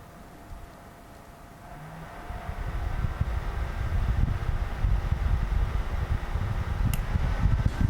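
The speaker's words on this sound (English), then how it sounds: "Now I'm going to be testing the sound of each heater." Small portable space heater running with its fan on, a steady broadband whoosh with low rumble that swells after the first couple of seconds and then holds at a constant level, close by, with no talking.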